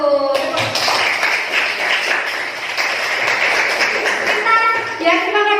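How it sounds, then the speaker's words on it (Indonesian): Applause in a classroom, a group of students clapping steadily and fairly loud for several seconds, with voices between claps. "Beri aplaus dulu untuk yang bertanya dan kelompok 1."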